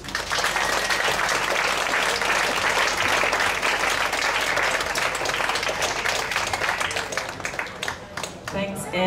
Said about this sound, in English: Can we get another round of applause, everybody, for Andy?